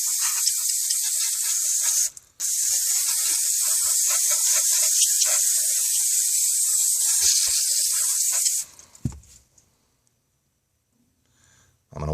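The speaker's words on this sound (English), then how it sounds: "I'm going to take some parts cleaner and spray around the fuel pump cover housing from the tank" Two long bursts of hissing aerosol parts cleaner sprayed close by around a Hyundai Sonata fuel pump cover, with a brief pause between them, followed by a few faint handling clunks and near silence.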